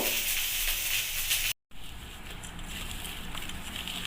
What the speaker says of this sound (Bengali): লবণ লঙ্কা একসাথে ভালো করে মেখে নিচ্ছি